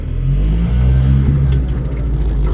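A Piaggio Ape three-wheeler driving with its engine running, a loud, close, steady low rumble with some clatter and no talk.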